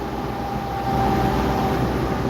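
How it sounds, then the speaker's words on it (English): Steady low road rumble of a semi truck running alongside at highway speed, a constant broadband roar with a faint tonal hum. "And there's a truck to my right in my blind spot."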